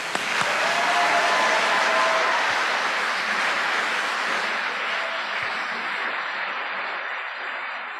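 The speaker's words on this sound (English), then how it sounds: "round of applause." Broad, sustained applause from a masked audience at a 2021 pharmacy school white coat ceremony, a dense roar of clapping that stays loud throughout and tapers slightly near the end.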